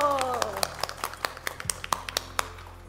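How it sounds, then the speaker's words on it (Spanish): At a church women's gathering, a few people clap sharp, evenly spaced claps in a steady rhythm. A voice is heard at the very start. "¡un aplauso!"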